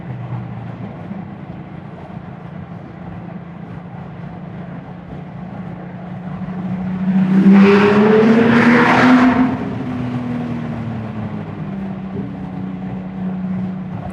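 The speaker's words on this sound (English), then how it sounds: "I can't hear my exhaust, so let me race through the underpass." A Porsche 997.2 GT3 RS engine drones steadily, then swells into a loud, roaring exhaust rev for a couple of seconds while racing through an underpass before settling back to a steady hum.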